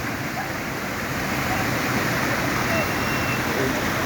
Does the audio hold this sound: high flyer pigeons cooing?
no